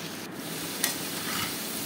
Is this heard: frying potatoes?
yes